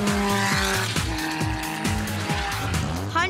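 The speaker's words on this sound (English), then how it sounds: "we're going to burn some rubber" Car tyres squealing and burning rubber on the Mallory Park racing track in Leicestershire, with a loud revving engine rising and falling through repeated gear pulls and a long, harsh skid running throughout.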